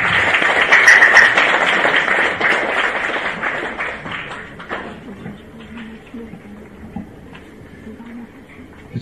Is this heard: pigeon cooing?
no